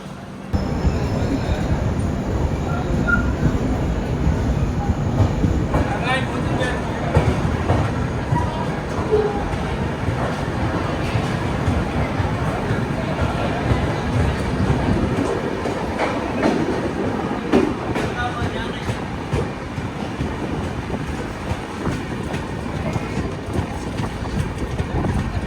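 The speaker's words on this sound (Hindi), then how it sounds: "2 मिनट के हॉल्ट के बाद अपनी ट्रेन आगरा की साइड बढ़ते हुए।" The Uttar Pradesh Sampark Kranti passenger train rolls out of Mathura Junction toward Agra at night, a loud, continuous rumble from on board with rhythmic wheel clatter over the rail joints, and a voice speaking now and then.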